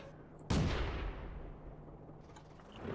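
A single loud, booming blast of a tank shell hitting a wall in World of Tanks strikes suddenly, then rumbles and decays over a couple of seconds.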